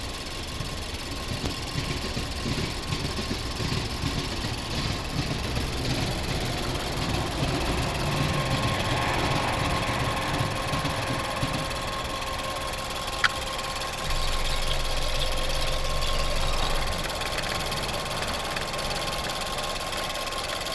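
A 2011 Mazda 6 Sport 2.0-litre four-cylinder engine idles steadily and close by, a continuous low rumble with a faint rhythmic knock throughout.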